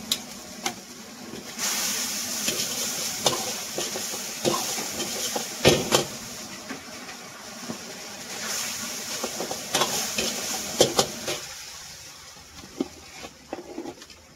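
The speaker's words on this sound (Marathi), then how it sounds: "तो फुल फ्लेम पे घुमा रहा हूँ 1-2 मिनट के लिए, ज्यादा नहीं।" Noodles tossed and fried in a pan over full flame at a street-style Chinese food stall, a steady roaring hiss of frying with clanks and scrapes of the pan and ladle throughout.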